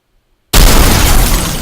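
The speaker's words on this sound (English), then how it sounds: "Destroyed explosion." A loud, sudden video game explosion bursts in after a moment of silence as an enemy spider robot is destroyed, a broad crashing roar that slowly decays.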